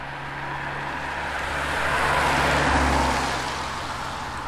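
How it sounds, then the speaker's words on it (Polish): Volunteer fire brigade trucks and cars pass by on a road near a border crossing, a steady low engine rumble that swells to a peak midway and then fades as the vehicles go by. "Co chwilę przejeżdżają wozy i samochody OSP, Ochotniczej Straży Pożarnej."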